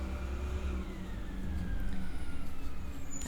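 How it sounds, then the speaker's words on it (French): Heavy recycling truck idling in front of a house, its diesel engine rumbling steadily and close, with a faint high siren-like whine drifting in the background and no voices. "Attendez, là, il y a un camion de recyclage qui est devant chez moi."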